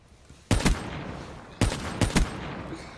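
Sniper rifle fire in Black Ops 3: two sharp, loud shots about a second apart, each followed by a quick echoing crack and tail, plus a faint click between them.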